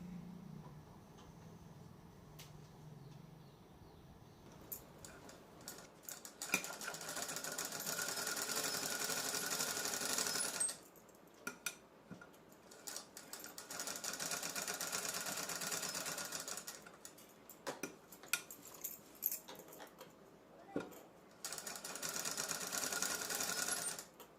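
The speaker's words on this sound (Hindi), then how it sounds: "अब मैं यहाँ पे इस तरह से लाइनिंग पे एज पे सिलाई लगाऊंगी" A sewing machine runs in bursts while stitching along the edge of a suit's lining, its rapid mechanical whir starting and stopping several times with short pauses in between.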